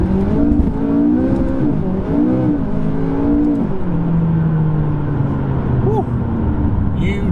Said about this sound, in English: you actually feel the turbos kick in